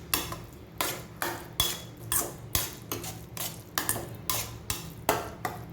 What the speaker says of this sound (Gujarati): હવે આપણે આની અંદર દાણા નાખીશું અને આને મિક્સ કરી લઈશું